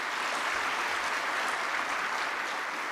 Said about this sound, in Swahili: naomba tuweze kujipigia makofi